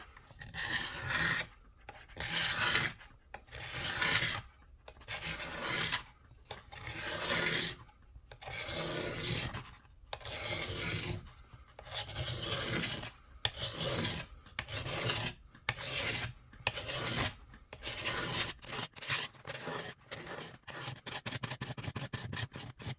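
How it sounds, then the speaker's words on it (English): Steady rhythmic rasping strokes of an abrasive sanding a machete's metal tang flush with its handle, close and continuous, speeding up toward the end. "We'll finish sand the metal to meet the handle, the tang, to meet the handle"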